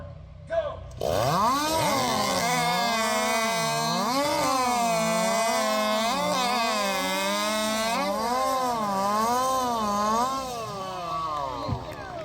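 Chainsaw biting into timber at a Jackson, Alabama chainsaw race, engine revving and bogging with wavering pitch through a long continuous cut, loud and close.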